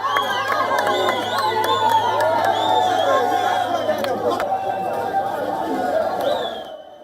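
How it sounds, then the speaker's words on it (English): Crowds on city-center streets cheer, shout and clap in celebration as fighters march and drive in, forming a dense, sustained roar of voices with occasional sharp claps, which fades slightly at the end. "Here are images and scenes of celebration, with people on the streets clapping and cheering on as the fighters marched and drove into the city center."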